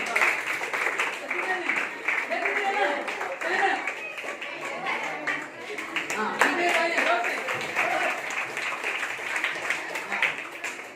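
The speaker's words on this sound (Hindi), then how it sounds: "उन्होंने अपना दूसरा स्थान पाने के लिए तालियां जोर से।" Class 10 students applaud in a school classroom as the Surdas house team is announced in second place with 70 points; lively, uneven clapping runs throughout, with voices mixed in.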